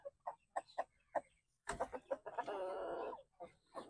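Zampi native chickens kept as breeders cluck softly in a series of short, quiet calls, followed by a longer, louder burst of clucking, with no one speaking.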